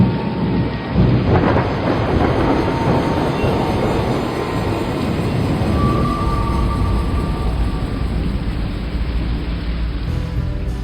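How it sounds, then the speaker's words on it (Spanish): A deep, deafening thunderclap after a late lightning flash rumbles loud and sustained, with heavy rain-like roar filling the whole stretch and no voices. "el gran destello de un tardío relámpago, seguido de un estruendo ensordecedor, desgarraron los cielos abiertos"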